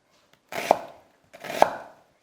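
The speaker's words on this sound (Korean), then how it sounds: "양파 이렇게 해서 이렇게 하면 다져지죠." Two crisp knife chops fall on a board while an onion is minced finely, each a sharp close thud with a short tail, spaced about a second apart in an otherwise quiet kitchen.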